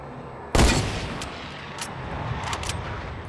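A single sharp gunshot cracks out loudly in Fortnite, followed by a few fainter distant shots over steady background noise.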